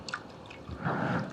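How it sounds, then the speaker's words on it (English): Hot water is poured over Japanese green tea leaves in a small teapot, with a few drips followed by a soft, steady splashing pour close up. "And we can take our hot water and just pour."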